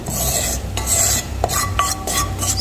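Healthy seasoning powder being toasted and stirred in a cooking pan, a steady scraping stir with faint sizzle and brief utensil knocks, close and continuous.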